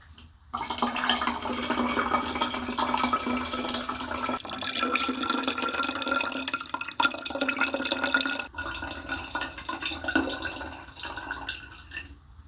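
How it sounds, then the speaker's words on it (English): Gingery sugar syrup for homemade ginger beer pouring steadily into a container for about eight seconds, a continuous close liquid splash that pauses briefly then resumes more softly. "now I'm going to pour our gingery sugary mix in"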